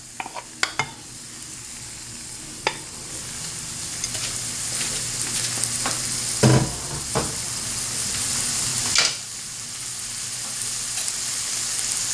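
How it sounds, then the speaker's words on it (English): Steak browning in a hot frying pan gives a steady, close sizzle and hiss, broken by a few sharp clinks and scrapes of a utensil against the pan. "So what we're going to do is brown the steak first."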